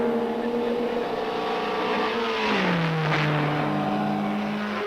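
A rally car on a 1968 Finland rally stage approaches and passes with a rising engine note that drops in pitch, then pulls away at high revs, loud and near throughout.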